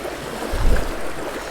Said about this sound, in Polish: trochę ta fala daje w kość